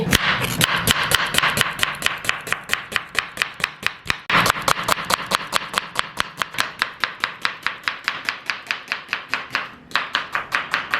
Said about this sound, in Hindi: ये मैंने 2 अदद दरमियाने साइज़ की प्याज ली है, इसको हम बारीक बारीक काट लेंगे